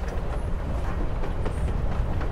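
Steady rumble and rhythmic clatter of a train rolling along the tracks in the video game Life is Strange: Before the Storm, continuous and close with no talk.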